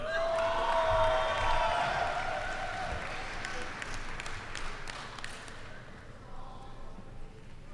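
A crowd at a Council Bluffs high school graduation ceremony applauds and cheers the graduating class, steady broadband clapping with scattered whoops that gradually fades out toward the end.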